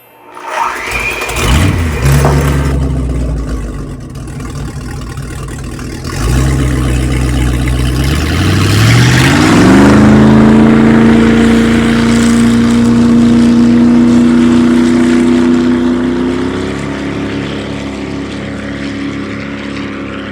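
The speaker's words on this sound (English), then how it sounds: "we're going to whisk really well in between each addition" An electric whisk beats keto meringue mixture with a loud, continuous motor whine that shifts and climbs in pitch partway through, then holds steady before easing slightly near the end.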